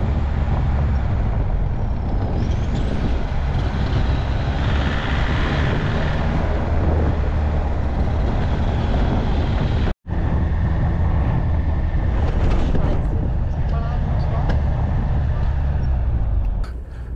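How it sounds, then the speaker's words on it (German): A van's engine with a broken turbo, burning oil and running badly, gives a loud, steady, rough rumble with wind buffeting the microphone, broken by a brief dropout near the middle. "Sobald wir Gas geben, raucht unser Bus weiß-blau und hört sich schrecklich an."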